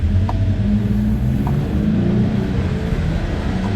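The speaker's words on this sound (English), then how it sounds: "Oh, as I say that, there comes some traffic." Road traffic rolls past with a loud, continuous low rumble and hiss of engines and tires, steady and near, with no talking.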